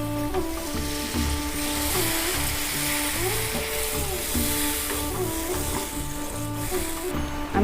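Water poured into frying masala in a pan for a raw banana kofta curry, giving a steady, loud sizzle and hiss that runs throughout with no talk over it.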